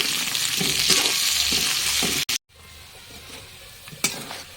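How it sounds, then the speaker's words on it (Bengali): Potatoes fry in a pan with a busy, hissing sizzle and rhythmic spatula stirs, a brief cut to near-silence midway, then quieter frying resumes with one sharp scrape near the end. "আলুটা মোটামুটি ভাজা আমার হয়ে গেছে"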